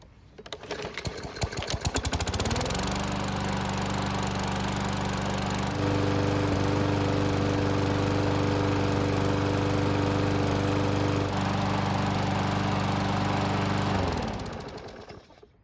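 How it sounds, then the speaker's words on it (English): A Murray lawn mower engine, being repaired for stalling on its own, cranks and catches, then settles into a loud, steady running drone that holds for about eleven seconds before cutting off. "we can finally prime the engine and try starting it"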